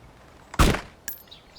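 A suppressed gunshot from a silenced gun in a video game gives one sharp, muffled thump, followed by a fainter click a moment later, close and otherwise quiet.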